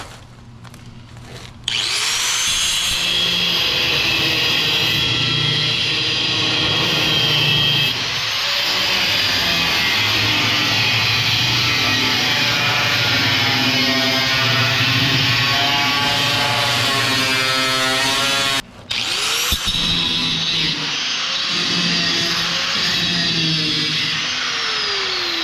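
A power tool trims metal around the fender of a 1952 Chevy sedan delivery in a fabrication shop, grinding loudly and continuously for about twenty seconds with a short pause near the end.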